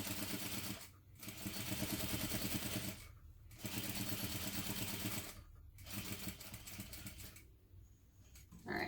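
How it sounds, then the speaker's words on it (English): A sewing machine stitches fabric along a drawn line in steady, fast runs of needle chatter, broken by four short pauses, close and fairly quiet with no talk. "now you will stitch directly along the box that you drew"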